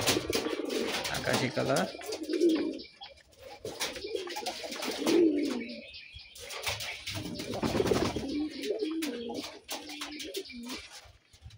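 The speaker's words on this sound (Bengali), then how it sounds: "নর অন্য একটা মাদি থেকে ডাকাডাকি করতেছে" A male colored Raj Golla pigeon coos close by in repeated deep, throaty, warbling calls, while a person talks over the cooing.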